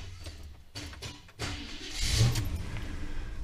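An old starter motor with a sticking solenoid gives a few sharp clicks and brief whirs, then cranks harder into a sustained, louder mechanical churn. The sound is close and unaccompanied by speech.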